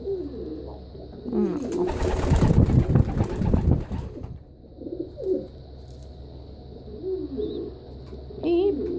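Pigeons coo close by in soft, repeated throaty calls, with a burst of wing flapping and rustling partway through and a voice talking under the birds.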